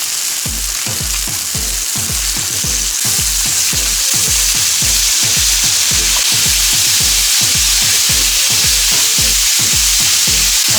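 Lamb chops sear in a hot pan with a loud, constant sizzle. A fast, regular low thumping runs beneath it the whole time.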